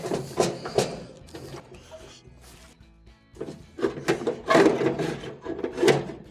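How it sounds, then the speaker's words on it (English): A GE dryer drive motor is slid by hand into its housing, giving close scraping and knocking bursts of metal and plastic, with quiet pauses between the movements. "Start to slide my motor inside the housing."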